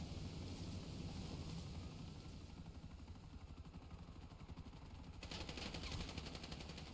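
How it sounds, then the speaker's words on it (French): Gunfire in the video game GTA during a police confrontation: faint, rapid bursts of shots over a constant helicopter-like rotor drone, distant and low in level, with no talking. "On nous tire dessus, hein, vraiment derrière, attention."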